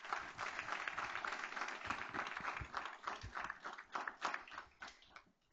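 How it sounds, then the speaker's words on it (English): Audience at a school board meeting giving a round of applause, a steady patter of many hands clapping in a room that fades out after about five seconds, with a few voices underneath. "Let's give them a round of applause."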